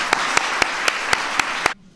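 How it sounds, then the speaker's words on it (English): Clapping at a White House school wellness event comes as seven crisp, evenly spaced claps in a steady beat, loud and close, then stops abruptly into near silence. "So let's give Tom a round of applause."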